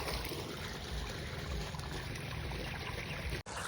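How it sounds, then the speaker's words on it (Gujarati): Water running steadily out of a tank tap as the tank is emptied, a continuous gurgling trickle that cuts off abruptly near the end. "પાણી જે ખાલી થાય રહ્યું છે"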